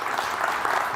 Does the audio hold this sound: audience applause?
yes